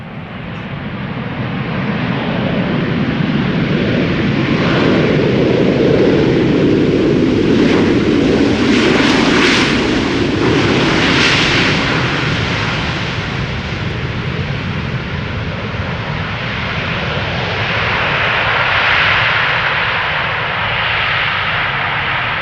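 A 16-year-old Smartwings Boeing 737-800 in from Alicante touches down at Schiphol and roars under thrust reversers, a loud, broad jet rumble building, peaking midway and holding steady throughout.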